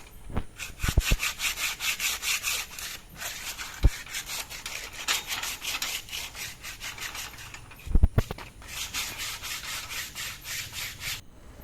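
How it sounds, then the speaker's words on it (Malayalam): Steady back-and-forth abrasive rubbing while a black-painted square-tube metal gate with castings is sanded clean, loud and rhythmic for the whole stretch, broken by a few sharp knocks. "ഗേറ്റ് നല്ല വൃത്തിയായിട്ട് ഞങ്ങളത് ഉരയ്ക്കുക"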